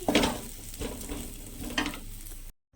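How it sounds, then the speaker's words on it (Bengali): Vegetables sizzle briefly in a hot pan, a steady loud hiss with a few stirring scrapes and bursts, then cutting off to silence near the end. "সেই সবজিগুলোই রয়েছে, অল্প একটু ভেজে নিলাম"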